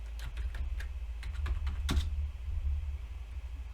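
Quiet clicks of a computer keyboard as a password is typed, a short irregular run of keystrokes over a low steady hum.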